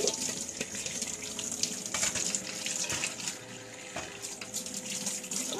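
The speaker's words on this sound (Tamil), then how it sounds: "ரன்னிங் வாட்டரில் தான் உங்களுக்கு க்ளீன் பண்ணணும்" Running tap water splashes steadily over mushrooms being washed in a sink, a close, continuous faucet stream with small shifts and clinks as the mushrooms are handled, and no one talking.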